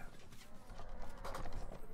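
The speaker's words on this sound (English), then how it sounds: "Plenty of horses around." Horses clip-clop in a medieval battle game, a steady patter of hoofbeats under a low game ambience with a faint voice talking over it.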